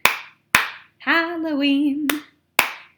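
Sharp hand claps ring out one by one in a slow, steady beat, bracketing a sung word from a Halloween song during a kindergarten music lesson.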